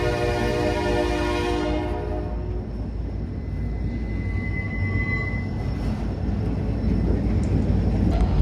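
An NS GP60 diesel locomotive passes, its horn blaring for the first two seconds before a loud, steady rolling rumble of the train continues, close by and without talk.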